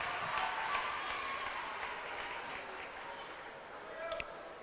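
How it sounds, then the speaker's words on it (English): Crowd ovation in a high school basketball gym, Sacred Heart boys against Classical School of Wichita, as a player checks out; steady broad cheering and clapping across the whole stretch, with a commentator talking over it. "Neisler checks out to an ovation from the crowd"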